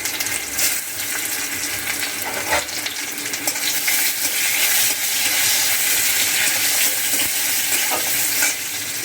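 Raw mango pieces fry in hot oil with dried red chilli and whole cumin, a loud, continuous sizzle with a wet hiss, plus occasional stirring scrapes close by.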